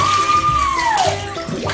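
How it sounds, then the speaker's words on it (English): Water splashing and sloshing in a bathtub as a Sesame Street Elmo bath toy scoops it up, with a steady close wash of water and a faint high whistling tone gliding downward. "this will scoop water. And it will spin this pinwheel."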